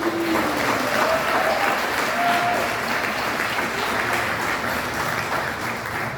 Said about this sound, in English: Let us begin with a round of applause for all the honorees and every one of you in the room.